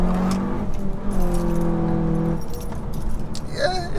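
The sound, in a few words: Seat Leon Cupra 290 engine accelerating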